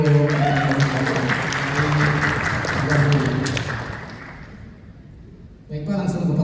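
Audience applause at a lab group presentation event, loud and sustained for several seconds, fading out before a speaking voice returns near the end.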